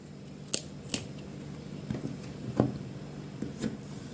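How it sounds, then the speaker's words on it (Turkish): A knife cuts an eggplant in half on a cutting board: a few sharp clicks and soft crunchy taps, spaced unevenly, close and quiet, with no voices. "patlıcanımı ikiye kesiyorum. Şöyle ortadan ikiye ayırıyorum."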